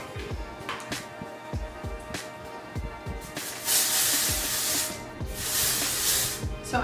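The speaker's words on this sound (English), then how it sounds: "going to spray in some of Away's texturizing hairspray" Two long hissing bursts of texturizing hairspray, close and fairly loud, separated by a brief pause, with soft handling noises and light clicks before them.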